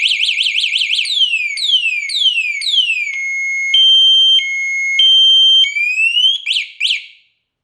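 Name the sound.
motorcycle security alarm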